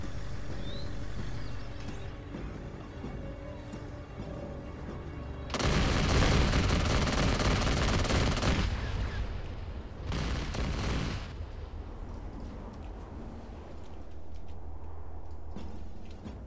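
Blaster fire from Republic Commando guns and E5 repeaters rattles through a Star Wars video game battle in dense, loud bursts, with a long barrage followed by a shorter second burst over a steady background hum.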